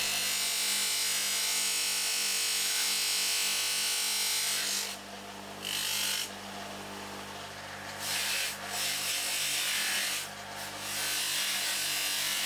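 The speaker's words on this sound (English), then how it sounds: "The beauty of the narrow mops on the AC150BB mean that we can get into all the awkward nooks and crannies on this particular tool." A rusty mystery tool being polished on an AC150BB buffer with narrow buffing mops: a continuous loud whirring, rubbing grind of the spinning mops against the metal, briefly easing several times as the piece is lifted away.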